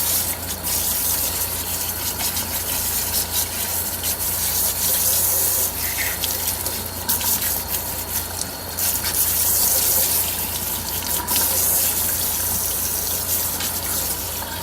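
Hair wefts from a lace closure rinsed under running tap water, a steady close gush with rubbing and sloshing as conditioner is worked out, continuous for the whole stretch.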